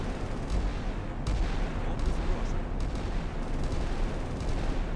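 Rapid turret gunfire in a naval video game, as shipboard guns shoot at an incoming missile during a World War III commerce-raiding scenario; a dense, continuous rattle of shots with heavy booms, loud and sustained throughout.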